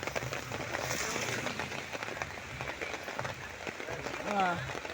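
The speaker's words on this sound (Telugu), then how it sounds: "ఉండవల్లి సెంటరు డౌన్లో అలా ఫుల్గా ఉంది వర్షం" Heavy rain pours over the Undavalli town centre, a dense, steady hiss of water hitting the ground and surfaces that runs throughout with a few faint background sounds.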